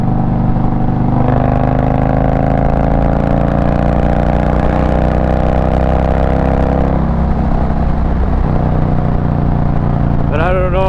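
An Indian Challenger motorcycle fitted with a TAB Performance cat delete exhaust runs with a loud, steady engine rumble that rises in pitch midway and then drops back. A brief higher rev sounds at the very end.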